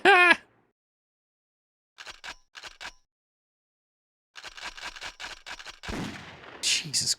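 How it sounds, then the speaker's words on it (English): PS1 video game gunshot effects: a sharp loud blast at the start, then after silence several short clipped bursts of shots in quick groups, followed by a longer, denser volley and a few final crisp cracks. "The fucking gunshot sound effects"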